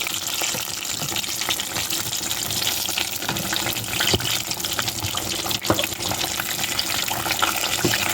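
Samosas deep frying in hot oil, a steady dense sizzle and crackle with scattered louder pops throughout, continuous and close.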